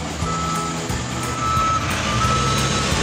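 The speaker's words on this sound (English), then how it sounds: "And here comes the heavy road roller." A heavy road roller on asphalt paving work rumbles steadily while a high reversing alarm beeps repeatedly, close and loud, with no voices.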